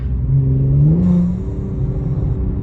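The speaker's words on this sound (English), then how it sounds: "Listen, the turbos, you can hear the turbos better." A Mercedes C43 AMG with high-flow catted downpipes and an FI exhaust revs up close by, its engine and turbo note climbing, then easing into a steady lower drone. No one speaks.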